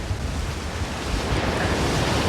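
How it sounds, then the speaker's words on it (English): Strong storm wind blasts steadily across a microphone near an RV during a storm with 70 mph gusts, a loud continuous low roar like surf with no break and no voices. "The wind is still strong, still piping."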